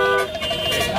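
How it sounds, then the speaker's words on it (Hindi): Car horn honked in a vehicle being driven at full speed, a sustained tonal blare with stacked harmonics lasting about a quarter second, followed by further horn-like tones under road noise. "ये जो तुम धड़ाधड़ हॉर्न बजा रहे हो"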